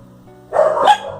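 A small dog gives a short, close burst of barking over a faint low background hum.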